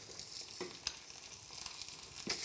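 An egg fries in a pan over breakfast, giving a quiet, steady sizzle with light crackles and a few soft clinks, with no one speaking.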